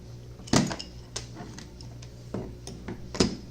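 A hydraulic press forces a screw through a motor bearing, giving several sharp metallic cracks and clanks at irregular intervals over a low steady hum, fairly close and without talk.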